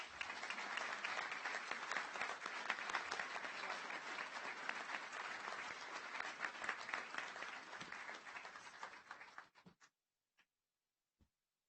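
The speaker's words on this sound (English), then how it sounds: "Let's give Jennifer one more round of applause." Sustained audience applause fills a graduation ceremony hall for about nine and a half seconds, dense and steady, then thins to a few last scattered claps before silence.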